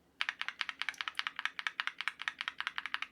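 Rapid typing on a keyboard fitted with lubed and filmed Banana Split linear switches, a dense run of crisp, even clacks at a steady rhythm, close and clear with no talk.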